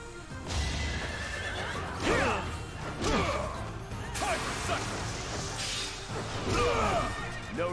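Repeated whinnying neighs from a horse in the video game Fire Emblem: Three Houses, several shrill cries in a row over a busy low rumble with hoof-like clatter.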